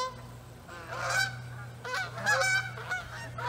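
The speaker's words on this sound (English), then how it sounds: "oh, check it out, geese." Geese honk in repeated calls outdoors on a September evening near a garden and pasture, several loud nasal honks rising and overlapping over a steady low hum.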